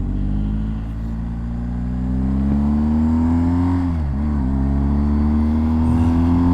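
BMW R 1250 GS motorcycle accelerating on the road with quick shifter gear changes, engine pitch climbing steadily then dropping briefly at a shift before pulling again, loud and continuous with wind noise.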